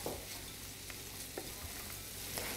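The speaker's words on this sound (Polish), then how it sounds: "To się musi tak podsmażyć troszkę" Bacon and asparagus fry in a pan with a steady, close sizzle, broken now and then by soft scrapes and clinks of stirring; no one speaks.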